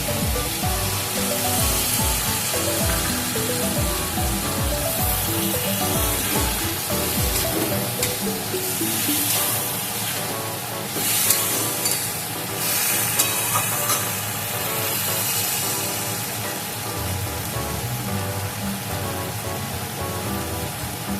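Ground poppy seed paste goes into a pan of ridge gourd and potatoes, setting off a steady loud sizzle and hiss of frying that runs alone throughout, with scraping bumps near the start.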